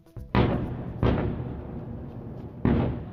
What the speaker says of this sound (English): Explosions rock the capital, Beirut.